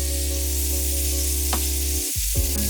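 Minced meat and eggplant stir-frying in a single pan for a bento, a steady broadband sizzle running throughout with a brief clink near the middle and a shift in tone toward the end; no talking.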